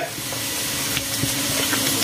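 Maggi noodles with egg and chili in water cook over high heat, giving a steady close hiss and bubbling sizzle with small pops throughout.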